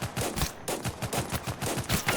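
AK rifle fire in the game Total Conflict: Resistance, a steady rapid string of about a dozen close, punchy automatic shots in even rhythm, loud and alone.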